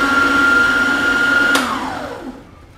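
A stand mixer whirs steadily as it beats the liquid part of a Christmas gingerbread batter with cane molasses, a loud continuous motor hum that shifts pitch partway through and then winds down and fades out near the end.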